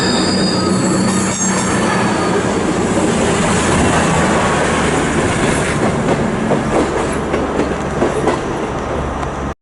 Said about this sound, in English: passing through now, we got our first freight train of the day. It's going to be a Class 66.